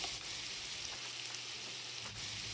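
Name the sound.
spices stirred and cooking in a pan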